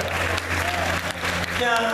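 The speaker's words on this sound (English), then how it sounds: "Come on, give her a round of applause as she comes." Congregation applause during a homecoming church service, clapping blended with music and voices, a continuous wash of claps under a sung or spoken lead.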